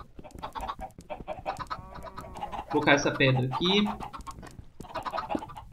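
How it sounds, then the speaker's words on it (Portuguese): Chickens in the Minecraft video game cluck in short bursts, growing louder and more clustered in the middle, while someone talks over them. "Pronto, as galinhas já estão aqui."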